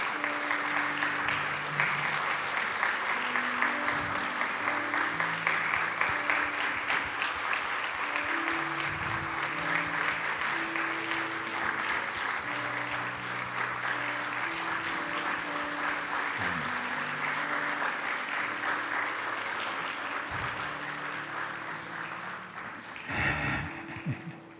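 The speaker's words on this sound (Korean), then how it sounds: "뜨거운 격려의 박수, 파송의 박수 함께 올려드리겠습니다." A church congregation gives long, even applause at a pastor's sending-off service, steady rhythmic clapping from many hands continuing for over twenty seconds before tapering off at the end.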